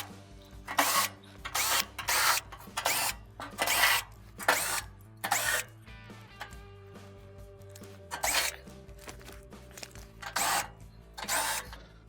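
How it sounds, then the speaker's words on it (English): A power tool backs out 7mm bolts holding the top panel on a Frigidaire oven, buzzing in about ten short bursts with brief pauses between them, close and moderately loud. "we'll remove our 7mm bolts that are holding the top panel on"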